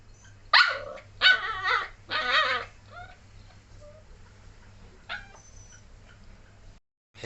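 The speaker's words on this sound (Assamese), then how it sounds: "এতিয়া মই কুকুৰটোৰ আমাৰ ৰকীৰ কাষত লৈ যাম ছাগলৰ পোৱালিকেইটা।" A dog barks sharply several times at close range beside young goat kids, with a burst of barks early on before things settle into quieter outdoor background.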